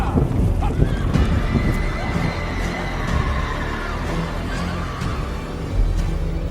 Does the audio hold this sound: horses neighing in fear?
yes